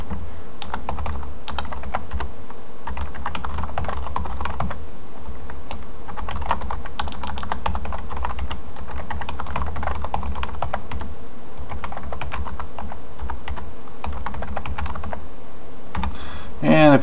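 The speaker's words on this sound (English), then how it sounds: "now we're going to go ahead and type in their information" Rapid, continuous typing on a computer keyboard, a steady stream of close clicky keystrokes lasting throughout with little else around.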